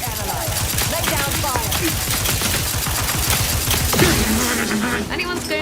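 Rapid automatic gunfire from a firefight in The Outer Worlds 2, a dense volley of shots rattling steadily throughout at close range, with game voices talking over it.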